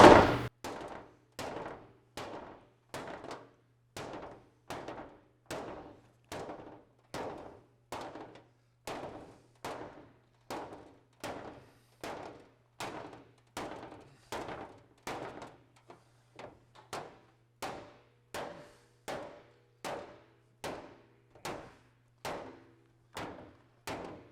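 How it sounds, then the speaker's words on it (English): A hammer strikes an Austin-Healey 3000 body panel backed by a post dolly, giving about thirty sharp metallic blows in a steady rhythm at roughly one per second, close and loud, with a faint hum beneath. "I don't have a hammer that reaches in there, so I got a post dolly."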